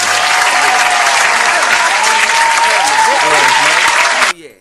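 A sustained burst of loud audience clapping, thick and even throughout, then cutting off abruptly at the end.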